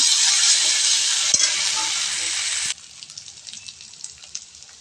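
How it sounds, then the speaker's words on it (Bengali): Chopped tomatoes and prawns stirred in a hot frying pan, a loud steady sizzle that cuts off abruptly midway, leaving faint scraping and ticking sounds. "টমেটো দিয়ে ভালো করে নাড়িয়ে নেব।"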